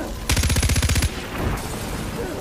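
Automatic gunfire in Far Cry 4 on PlayStation 4: a loud, rapid burst of about a dozen evenly spaced shots lasting under a second, followed by quieter combat noise and a distant rumble.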